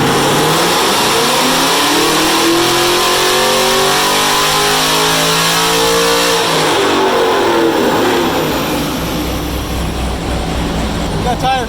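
A supercharged Callaway ZL1 engine revs hard on a dyno with its tires spinning, a loud, close, rising and falling mechanical howl that sweeps up and back down before settling into a rough roar.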